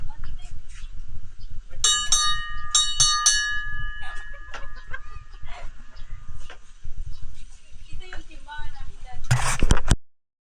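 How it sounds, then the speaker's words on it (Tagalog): A hand bell is rung at a seaside resort in Bohol, giving several bright, ringing strikes early on over steady background chatter and ambient noise, then a louder burst of clatter near the end. "Did you ring the bell? Ring the bell."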